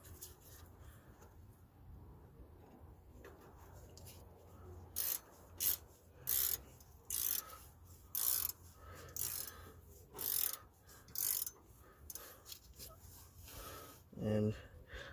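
A tool works an Allen key while fitting a rear stabilizer link on a 2009 Toyota Camry: about ten short, sharp scraping or ratcheting strokes repeat at a steady pace after a quiet start, close and distinct against a low background.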